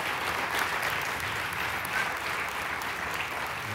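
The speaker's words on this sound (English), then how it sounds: "Why don't we stand and give Sarah a round of applause." A church congregation gives a sustained round of applause, a soft, even wash of many hands clapping at a distance.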